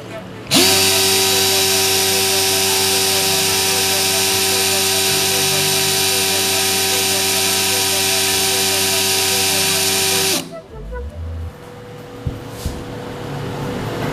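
A Stanley FatMax cordless impact drill runs at speed setting 1 for about ten seconds with a loud, steady, high motor whine, then stops abruptly, leaving faint handling clatter.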